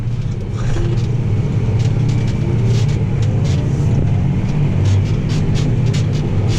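A Massey Ferguson 8730 tractor engine runs steadily at high throttle, a loud, close, continuous diesel drone with a deep rumble and steady harmonic hum, no pauses.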